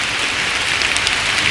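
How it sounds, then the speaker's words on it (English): Steady rain falls outdoors in the North Carolina woods, a dense, loud, even hiss of drops with no voices. "It's starting to rain, so I have to wrap this up so that my camera equipment doesn't get messed up"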